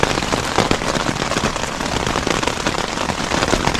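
Rain pattering steadily on a campsite shelter on Cumberland Island, a dense, close, even hiss of drops with no voices.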